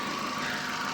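A Hyundai i10 Sports petrol engine from 2014 idles with a steady, even hum and no breaks, heard close and alone.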